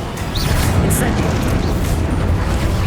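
A fiery Incendio spell blast in the Hogwarts Legacy video game fills the moment with a dense, steady roar of flame-like noise, loud and close throughout with no clear pauses.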